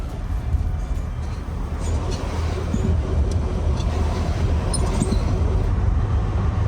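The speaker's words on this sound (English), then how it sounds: "You have to listen to the sound that the car is making." A damaged car rolls along with a steady, loud broadband road rumble and faint intermittent rattles and clicks from the falling-apart chassis, with no one talking.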